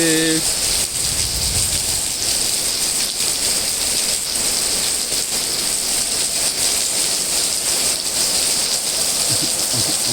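Morning rain falls steadily with an even, close hiss of drops on surfaces, continuous and fairly loud throughout, with a brief low thump near the start and no clear speech.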